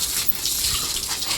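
A forceful water jet hoses down a cow during its bath, a close continuous rushing gush with uneven surges over the short stretch and no talk.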